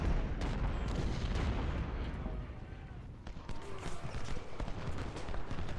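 Civil War musket and artillery fire in the strategy game Ultimate General at First Bull Run: a dense rumble of booms and sharp shots, loud at first and then scattered.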